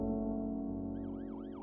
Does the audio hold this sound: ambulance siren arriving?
yes